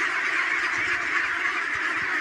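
Ducklings quack and peep in a dense, continuous chorus, many small birds calling over one another at close range with no break.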